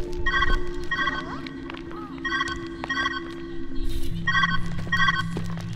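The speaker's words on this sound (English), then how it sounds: "Where's that ringing coming from?" A repeating electronic phone-style ring from the Viewfinder puzzle game sounds in steady paired bursts over a low background hum, loud and close, with no talking.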